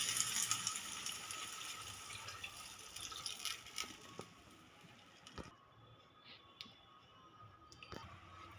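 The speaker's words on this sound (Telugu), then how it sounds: "ఇప్పుడు ఇందులో వాటర్ పోయాలి." Water poured into a pan for Maggi egg noodles, a faint splashing gush that is busiest at first, then thins to a quieter trickle with a few small clicks, heard alone.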